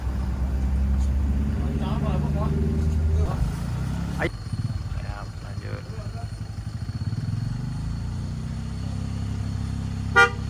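Cars and motorbikes passing on a road, with a steady engine rumble, a short horn toot and vehicles whooshing by close at hand, while people talk briefly over the traffic.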